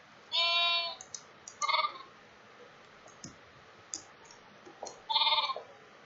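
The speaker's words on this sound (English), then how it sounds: "Sheep, I see you." Sheep bleating in the video game Compact Sky: three short, nasal bleats spread over several seconds, the first and last strongest, mixed with scattered sharp game clicks on a quiet background.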